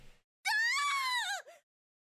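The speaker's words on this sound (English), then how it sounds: "Her scream nearly blew out Junpei's eardrums." Clover, a young woman in Zero Escape, lets out a single shrill scream about one second long, loud and close, ending in a short breathy tail.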